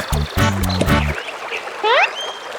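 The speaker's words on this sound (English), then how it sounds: "Suddenly, a hoarse quack comes from below Mama Duck." A duck lets out a few quick, rasping quacks near the end, following low rumbling sounds, in a children's story scene with a mother duck on water.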